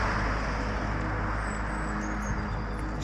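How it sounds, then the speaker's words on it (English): Road traffic in a village, a steady broadband rumble of passing vehicles with tyre hiss, fairly close and continuous, no talk. "Sorry about any traffic noise in the background here."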